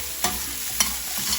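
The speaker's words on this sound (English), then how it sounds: "while that's frying, just gonna stir this up a little bit." Onions frying in a pan with a soft continuous sizzle, broken by two or three brief scraping stirs of a utensil against the pan.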